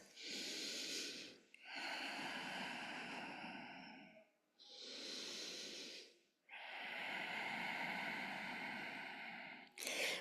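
Slow, deep breaths taken during a yoga pose: two long inhales and exhales, each a few seconds of soft airy rushing separated by short pauses, close to the mic and quiet, with no talking.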